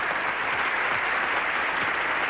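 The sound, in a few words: studio audience applause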